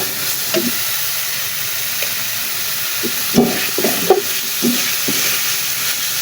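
Spice masala frying in a pan for a chicken feet dish, a steady hiss under scattered scraping stir strokes, several louder knocks and scrapes in the middle, close by.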